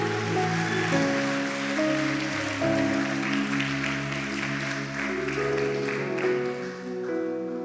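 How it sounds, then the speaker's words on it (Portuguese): A church congregation applauds in steady, dense clapping under sustained worship music with held keyboard chords, the noise washing continuously across the whole stretch at a moderate level. "Pode aplaudir a Ele, porque é para Ele"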